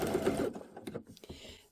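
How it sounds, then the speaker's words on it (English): A sewing machine makes a short, quick burst of stitching on a quilt block pillow, then stops, leaving a few faint clicks and handling sounds close by. "I'm going to just start with a little bit of a back tack"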